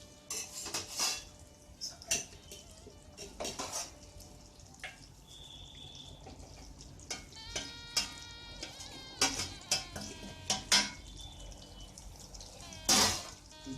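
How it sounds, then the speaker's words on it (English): A spoon scrapes and clinks against a pan while tiger prawn masala is stirred, giving irregular metallic knocks and rattles, close and fairly quiet with soft wet sounds between. "Give it a nice stir"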